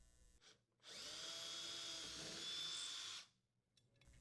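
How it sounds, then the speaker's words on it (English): A power drill with a 1/8 inch bit boring holes for a KitchenAid electric range anti-tip bracket, one steady whirring burst of about two seconds, fairly faint, between short quiet gaps. "Using a 1/8 inch diameter drill bit, drill the holes where marked."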